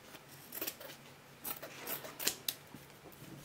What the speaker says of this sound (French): je vais découper celui-ci au milieu